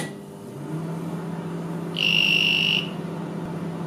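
A microwave leak detector sensor sounds its buzzer while placed beside a running oven's closed door: a steady, shrill electronic tone lasting under a second over a low oven hum, with no talking.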